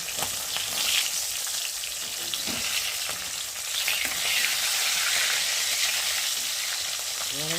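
Tilapia fish pieces frying in hot oil on a flat pan, a steady loud sizzle and crackle running throughout with occasional louder spits, no talking.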